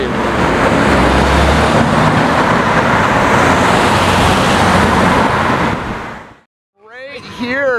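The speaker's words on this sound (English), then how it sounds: "Right here, you guys. There it is. La Ferrari." A Ferrari LaFerrari supercar rolls past on a busy Toronto street, a loud broad engine and road roar that holds steady for several seconds, then drops away briefly before voices speak at the end.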